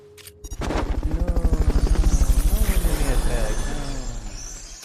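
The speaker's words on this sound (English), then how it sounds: "Fulton recovery helicopter is complete" Helicopter for Fulton recovery in the video game Metal Gear Solid Peace Walker, a steady rapid rotor chop that starts suddenly and holds loud and near throughout, with game music and effects layered underneath.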